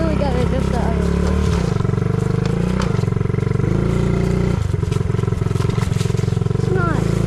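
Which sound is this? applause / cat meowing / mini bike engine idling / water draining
mini bike engine idling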